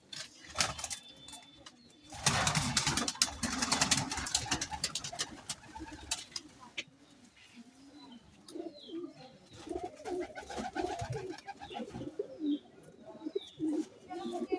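Pigeons, including an open-tailed breed being paired, coo in soft repeated bursts close by, mixed with rustling, a loud handling noise early on and people talking nearby.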